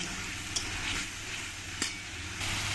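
Onion paste frying in a pan for chicken bhuna gives a steady, close sizzle and hiss, broken by a couple of sharp clicks from a utensil against the pan.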